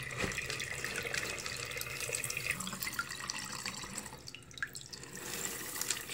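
Water from a turtle tank container being poured out into a sink, a steady splashing gush with trickling and dripping throughout, close and fairly loud, slackening briefly near the end before flowing again.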